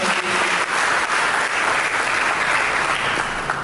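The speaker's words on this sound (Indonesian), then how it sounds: "Mari kita berikan tepuk tangan." Loud, sustained applause fills a church service, a dense wash of clapping from a large congregation with no talking heard.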